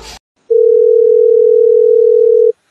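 A telephone call tone plays as one steady, loud, unbroken hum lasting about two seconds. A brief burst of noise comes just before it, then it cuts off cleanly.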